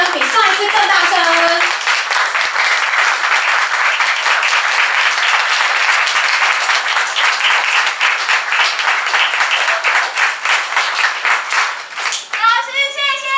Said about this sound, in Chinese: 那我们再一次用最热烈的掌声，比上一次更大声。